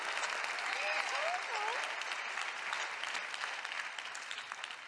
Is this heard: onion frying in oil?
no